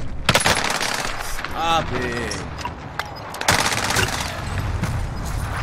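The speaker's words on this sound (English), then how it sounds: "Shit, I'm taking fire." Gunfire in a shooter video game, with several sharp shots and rapid bursts cutting through the mix while a player talks over it.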